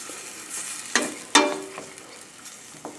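Scraping stirs of a wooden spoon through sizzling garlic and onions, with a couple of sharper clacks over a steady, faint frying hiss.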